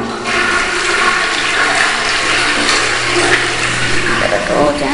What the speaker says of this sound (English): Gotta flush it down.